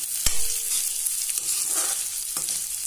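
Chopped garlic and julienned ginger frying in a hot pan, a steady close sizzle with a few stirring scrapes and knocks.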